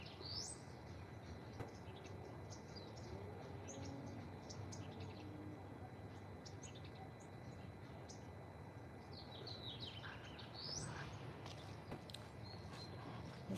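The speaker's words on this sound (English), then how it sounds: "I love hearing these birds." Small birds chirp and twitter outdoors along a walking path, scattered light calls over steady background hiss with faint insect-like buzzing, fairly distant and continuous throughout.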